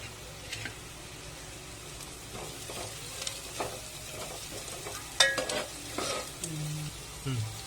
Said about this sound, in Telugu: ఇవి ఉల్లిపాయలు వేగినాయి కదా